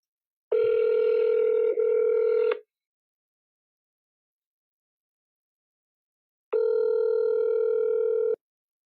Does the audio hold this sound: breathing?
no